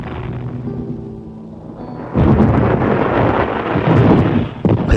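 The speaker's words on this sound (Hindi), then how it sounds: "फिर ठीक लंच के बाद बादल सा कुछ गरजा।" A deep, heavy rumble of thunder swells abruptly after a quieter low drone, rolling loudly for a few seconds with a sharp jolt near the end.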